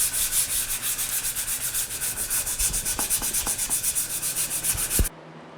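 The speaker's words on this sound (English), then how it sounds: "I want to go ahead and I want to sand over, smooth everything up before I put the coat of paint on it" Wood edges on a Lego play table are sanded smooth by hand, with steady, rhythmic back-and-forth rubbing strokes that sound close and continuous, then stop abruptly.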